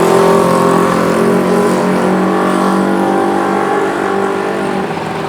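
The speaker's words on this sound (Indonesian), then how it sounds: "Bang Jarwo lagi bawa motor." A loud, steady engine drone holds close by, humming continuously with a sustained revving tone and no talking.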